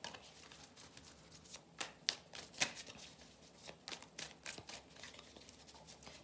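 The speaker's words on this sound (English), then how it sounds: "So I want to pull a few more cards." Reading cards are shuffled and drawn by hand, a quiet, close run of soft riffling flutters and sharp snaps, uneven and intermittent.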